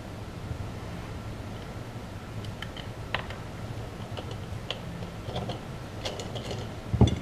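Gears in an upgraded gearbox spin on a shimmed sector gear bearing, giving a steady low mechanical whir with scattered light clicks and ticks, close and moderately loud, with no talking.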